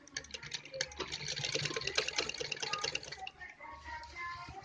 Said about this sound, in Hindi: यहाँ से सिलना स्टार्ट करूँगी इन दोनों कपड़ों को, ब्लैक को भी और गोल्डन को भी